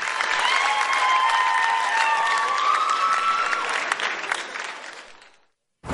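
A crowd at the Hura Tapairu dance competition applauds the Oreinari group, steady clapping with some cheering and a long sustained tone running through it, fading out near the end before a brief cut.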